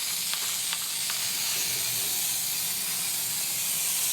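Spray adhesive hissing from a can as it soaks a fabric car headliner on the sunshade of a 2005 VW Passat GLS 1.8t, a steady, close, soft spray with a few faint clicks.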